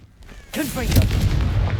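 A Confringo spell explodes in Hogwarts Legacy, a loud booming blast that bursts in about halfway through after a quiet lead-in, then rumbles and crackles on with faint game chatter in the mix.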